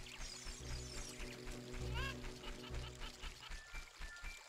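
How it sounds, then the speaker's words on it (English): A chicken in Ocarina of Time 3D gives a few short clucks and squawks amid soft game music and rhythmic background sounds, fairly faint. "Is there a chicken nearby?"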